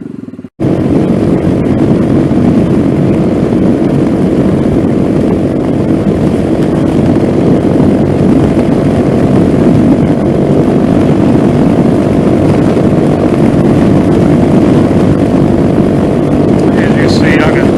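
A Venom Ghost 250 motorcycle engine drones steadily while cruising at about 60 mph on a light throttle, a loud, continuous hum with wind rush that starts abruptly and holds without breaks.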